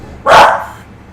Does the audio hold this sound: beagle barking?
yes